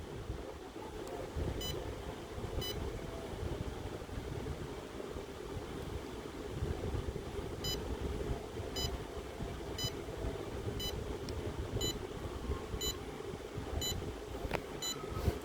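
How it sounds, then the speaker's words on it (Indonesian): A buzzer on an IoT parking monitoring system with an ultrasonic sensor gives short, faint, evenly spaced beeps, roughly once per second, over a steady background hum. "buzzer itu on 1 detik sekali"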